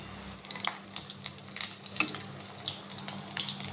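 An arbi leaf roll deep fries in hot oil, a soft continuous sizzle broken by scattered bubbling pops and crackles, fairly close and without speech.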